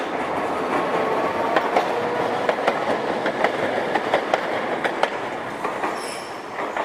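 A tram or train rolls along rails with rhythmic clickety-clack wheel beats over a steady rumble and a brief high wheel squeal near the end, with no voices.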